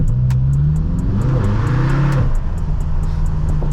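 BMW M6 engine drones and revs at close range while the car slides on wet night streets, a deep steady growl rising and falling, with regular ticking clicks over it.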